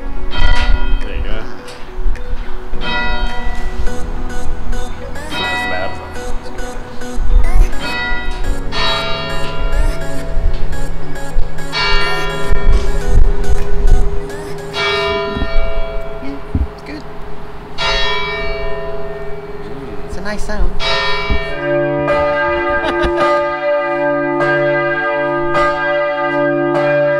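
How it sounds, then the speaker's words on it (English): Church bells ring in the belfry tower of Vilnius cathedral, loud and close, with repeated resonant strikes and long overlapping harmonic tones that swell and decay, continuing through the whole passage. "But I'm hoping the bell rings are amazing."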